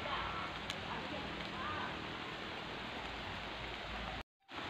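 Heavy rain pours steadily in an outdoor coastal setting, a dense, even hiss of drops close by that holds strong for several seconds before cutting off abruptly at the end.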